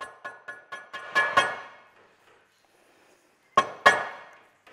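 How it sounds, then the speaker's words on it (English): A nylon hammer knocking a new seal into a Land Cruiser gearbox: several sharp knocks in a quick run, then two louder ringing taps after a pause, each with a short metallic decay. "Especially here with the nylon hammer. Definitely being careful there, knocking the new seal in."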